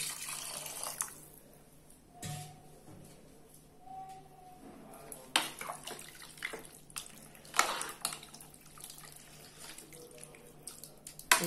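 Water runs and splashes into a cooking pot for a boti tripe curry, a faint steady stream with intermittent louder gushes and splashes, no voices.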